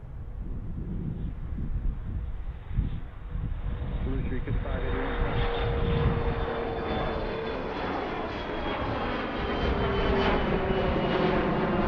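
A Southwest airliner landing on runway 9 right at Philadelphia rumbles and whines steadily, a sustained jet roar with a slowly rising tone, while radio talk runs over it.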